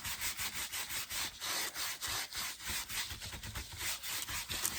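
Brown wax being rubbed hard into a cardboard and wood tray, a quick rhythmic back-and-forth scrubbing with many regular strokes, close and faint.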